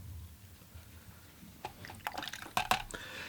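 Yellow ochre watercolor paint splashed and dripped onto paper, small wet taps and spatters that begin faintly and cluster into a few sharper splashes near the end.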